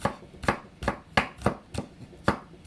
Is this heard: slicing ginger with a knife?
yes